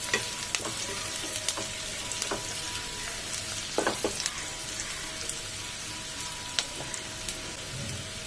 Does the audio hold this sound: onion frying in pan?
yes